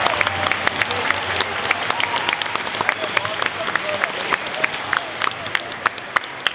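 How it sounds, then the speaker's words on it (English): Applause from a school audience at a Poetry Out Loud recitation event, a steady wash of many hands clapping through the whole stretch with sharper individual claps standing out, fairly close and even in level. "Let's give a final round of applause for everyone."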